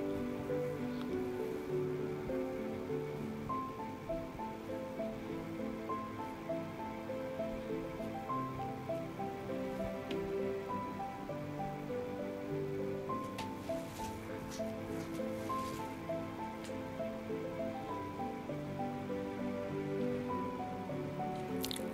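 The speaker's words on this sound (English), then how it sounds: "I'm gonna disperse my Xanthan Gum into my Propylene Glycol and then my Glycerin" Xanthan gum stirred into propylene glycol and glycerin, a continuous soft squishing and wet dripping texture that stays steady and close the whole time, with no talking.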